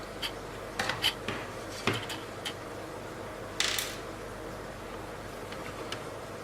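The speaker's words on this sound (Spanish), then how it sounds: "Y retiramos el disco duro de la consola." A hard drive and its screw come out of a PS4 console during maintenance, quiet, close metallic clicks, taps and small scrapes scattered over a faint steady hum.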